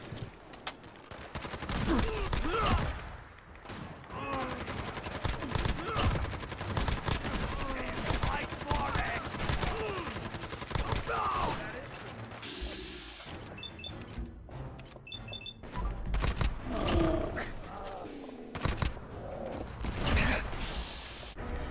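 Rapid gunfire from a modded gun in Fallout 4, repeated loud bursts of shots with mechanical clicks and reload clatter between volleys, close and sustained across the stretch.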